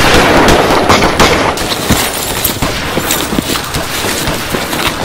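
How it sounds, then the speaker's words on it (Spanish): Gunshots in a forest, a rapid string of sharp cracks in uneven bursts over a noisy outdoor background, fairly loud and not far off, with no voices. "Oímos disparos, ¿qué pasó?"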